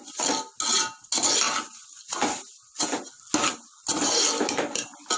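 A utensil scrapes and clatters in a pan in quick repeated strokes while roasting semolina in oil, close up, about a dozen bursts of stirring with brief pauses between.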